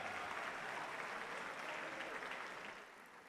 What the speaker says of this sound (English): How about a round of applause for Scott Sorensen and the great job that he